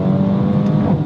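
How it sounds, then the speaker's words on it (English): Engine of a 2021 Mercedes-AMG A35 4MATIC hatchback revving with exhaust pops and crackles, a loud, close, steady throaty drone with layered harmonics across the whole moment, with no talking. "The little pops and crackles from the exhaust are great."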